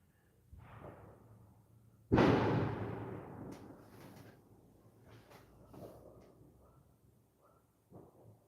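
Fourth of July fireworks shot off outside, muffled booms heard from a basement bowling alley, one loud rumbling blast followed by several softer distant thuds and crackles, with no talk over them.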